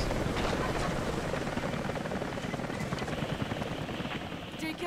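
A helicopter in the video game Rise of the Tomb Raider, a loud, steady rotor roar close by that mixes with gusting wind and holds without a break.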